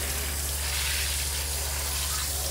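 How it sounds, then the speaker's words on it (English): Water runs steadily from the shower of a Grand Design Imagine XLS 17MKE travel trailer while pink antifreeze rinses out, a continuous close, loud gushing hiss with a low hum beneath. "and we're just gonna rinse it all out of the shower"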